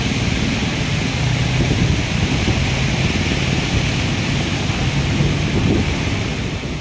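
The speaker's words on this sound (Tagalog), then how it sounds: "malakas yung ulan at mahangin" Heavy rain and strong wind sweep along the Manila Bay sidewalk, a steady broadband roar of downpour and gusts that holds close and loud throughout without a break.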